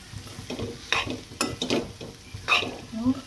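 Spatula stirring a bitter gourd stir-fry in a pan, with several distinct scraping strokes and a soft sizzle underneath; close and fairly quiet, no voices.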